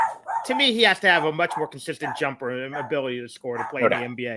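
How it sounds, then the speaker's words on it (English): A dog barks and yips in a home while someone talks about basketball, the sharp barks breaking through under and between steady conversational speech. "Sorry about the dog barking."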